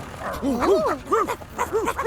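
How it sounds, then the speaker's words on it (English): Several cartoon dogs chase a digger, letting out a rapid string of close, bouncy barks and yips that overlap one another. "there were lots of dogs chasing the digger"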